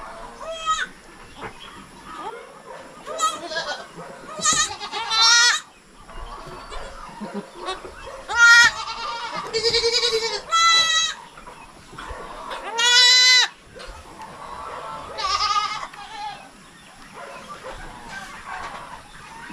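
Goats and newborn goat kids bleating in a farm pen, repeated loud wavering bleats in bursts with short gaps, some overlapping, over a quiet background.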